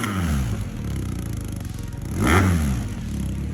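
BMW R1250R cafe racer built by Renard Speed Shop, its boxer engine revving loudly and close, holding a steady growl before swelling into a sharp rising rev near the end.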